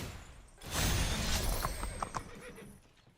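A horse neighs in the MTG Arena digital card game, a bright whinny rising over a low rumble and fading into a few short descending trills, moderately loud and alone without talk.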